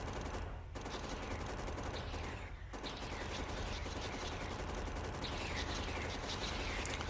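Steady, dense turret gunfire from the factory-building game Factorio, a continuous rattling barrage of rapid shots that runs the whole stretch with brief dips, fairly distant and even in loudness, with faint mechanical clatter underneath.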